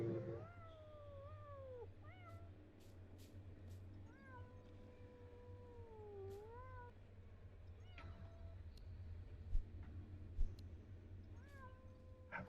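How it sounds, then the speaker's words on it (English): A handheld scanner in the factory-building video game Techtonica gives out a string of soft, drawn-out cat meows, each one rising and falling, set over a steady low hum with a few faint clicks. "the scanner makes a cat noise"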